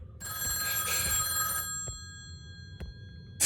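A telephone bell rings loudly in a horror video game, one long ring followed by a few short clicks before a second ring begins.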